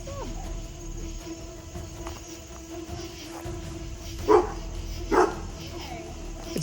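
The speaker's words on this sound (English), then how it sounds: "The dog's not even barking at us." A dog barks twice in a short burst at a haunted museum, fairly close, over steady insect-like chirring and low room noise, with a voice talking intermittently.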